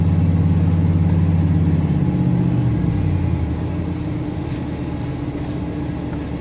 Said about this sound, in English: there's the old freight shaker, which is Freightliner